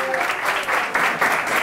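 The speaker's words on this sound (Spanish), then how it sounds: "¡Aplausos, Sergio!" Live audience applause at a school quiz show wrapping up its final round, a dense steady wash of clapping that swells in waves, loud and close, with a faint voice underneath.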